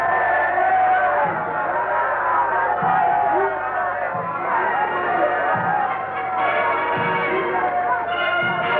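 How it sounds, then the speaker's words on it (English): A huge crowd along a route in Jamaica, awaiting Emperor Haile Selassie in 1966, gives a dense, continuous roar of murmuring and scattered shouts on an old, muffled recording, with voices mixed in. "Huge crowds jostled for choice vantage points all along the route in the hope of seeing the emperor."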